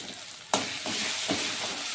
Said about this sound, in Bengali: এখন এই মশলাগুলোকে একটু আমি কষিয়ে নেব তেল ছাড়া পর্যন্ত।